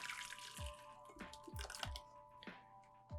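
Cooked glass noodles (funchoza) draining in a kitchen give off a series of distinct drips and small splashes, about five of them, over a steady low hum.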